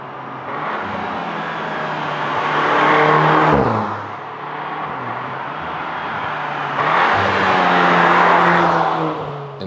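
A VW Tiguan R engine with Akrapovic exhaust revs hard and loud, pitch climbing through gears in two long surges of throaty exhaust roar, with a brief dip between them.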